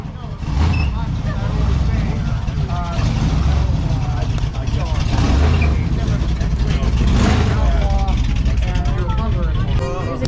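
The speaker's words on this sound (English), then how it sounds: "This is a video clip I got of a Ford Fairlane leaving, and my gosh, this thing must not be stock because when it took off" A Ford Fairlane, apparently modified rather than stock, pulls away at a Heritage Days cruise in Greenville, PA, its loud engine roar building steadily over busy crowd chatter and voices for several seconds.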